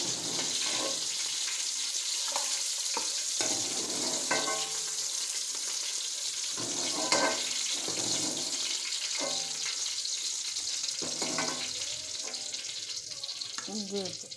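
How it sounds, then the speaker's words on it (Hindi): Chicken pieces frying in oil in a karahi pan, a steady bright sizzle with intermittent stirring and scraping clatter throughout; moderately close, no talk. "हम फ्राई करेंगे ताकि इसके अंदर एक गोल्डन सी लुक आ जाए।"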